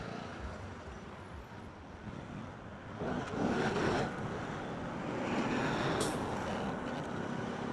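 Dense road traffic flows past close by as a motorcycle crawls through a busy junction, a steady broadband rumble of engines and wind that swells louder midway and stays heavy, with no one talking.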